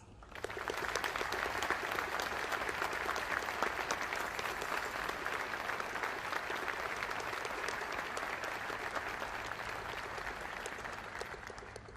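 Sustained applause from a large crowd at a Veterans Day ceremony at Arlington National Cemetery, a steady dense wash of clapping that holds for the full stretch before easing slightly at the end.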